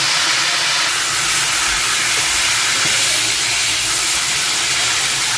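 Garlic frying in a pan for chicken adobo with liver, browning in hot oil: a loud, steady, hissing sizzle that stays close and unbroken throughout.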